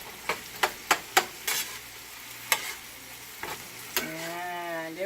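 Eggs with melting cheese are stirred quickly in a frying pan, with sharp spatula taps and scrapes over a soft sizzle and a brief high-pitched whine near the end.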